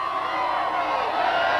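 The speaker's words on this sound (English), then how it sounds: "Julie, big crowd, excited crowd," A big, excited crowd roars and cheers in a dense, continuous wash of many voices that holds steady at a moderate level, with shouts rising out of the mass.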